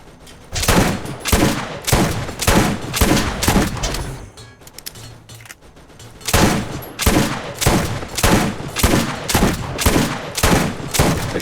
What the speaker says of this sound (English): Let's see what this shotgun does to these turrets.